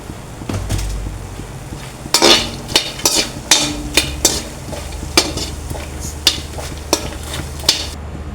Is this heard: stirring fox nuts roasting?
yes